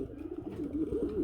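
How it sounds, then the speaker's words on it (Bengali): A pigeon gives a low, throaty coo that rolls on for about a second, close and fairly soft, with faint background noise and no talking. "খাবার পানি খাওয়ার পরে কিন্তু কবুতর কম ডাকে"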